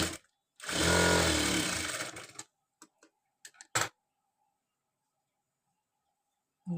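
Sewing machine stitching a katori blouse in one close burst of about two seconds, followed by a few faint clicks and near silence.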